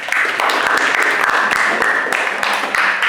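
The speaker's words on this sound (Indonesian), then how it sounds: "sekali lagi kita beri aplaus untuk kelompok 2" An audience claps steadily and fairly loudly for presentation group 2 in a classroom, a dense, continuous patter that holds for about three seconds.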